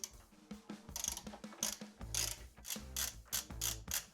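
Ratcheting clicks from a Torx 40 wrench loosening screws on a BMW R 1300 GS motorcycle while fitting luggage cases, a rapid, close, rhythmic series of metallic ratchet strokes with brief pauses, no voices.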